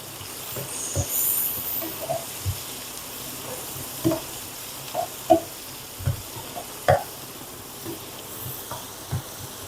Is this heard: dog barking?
no